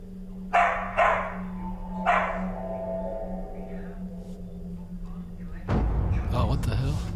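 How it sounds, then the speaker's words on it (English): Dog barking heard in a few short, sharp bursts at a moderate distance over a steady low hum, followed by a louder rumbling thump near the end. "There's another dog."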